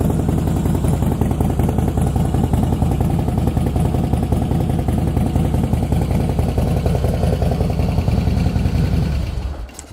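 A 2017 Harley-Davidson Softail Slim S with a six-speed setup runs loud and close, its engine giving a steady, rumbling, lumpy throb that keeps on without a break and then stops abruptly at the end.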